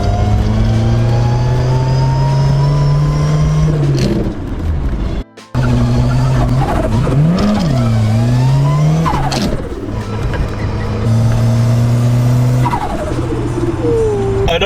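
A Ford Fiesta fitted with an RS accessory exhaust system drives close by, its engine droning loudly and then revving up and down through sweeping pitch changes, with a short break near the middle and a long loud run after it.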